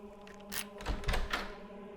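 A door unlocked with a key and swung open, a short cluster of metallic clicks and thunks followed by a low wooden bump, close, over a faint background hum.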